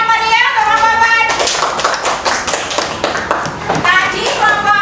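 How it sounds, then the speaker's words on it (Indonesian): A classroom group claps for a student team: a burst of hearty applause that fades, with a voice talking before it and again as it ends. "Tepuk tangan dulu yang meriah untuk kelompok 4."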